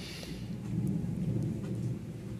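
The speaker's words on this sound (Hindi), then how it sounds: "अच्छी बारिश, अच्छी, यहाँ बहुत ज़्यादा बिजली कड़क रही है।" Thunder rumbles low and heavy during a rainstorm, a steady rolling boom over the hiss of falling rain, close and fairly loud with no speech.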